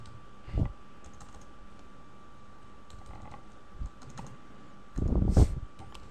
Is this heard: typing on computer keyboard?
yes